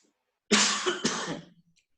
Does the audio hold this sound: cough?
yes